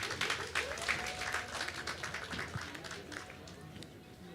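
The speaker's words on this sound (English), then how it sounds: "Give him a round of applause as he comes." Applause from the audience at a political dialogue forum in Kenya as a guest walks to the stage, a steady wash of clapping with crowd murmur that gradually eases off over a few seconds.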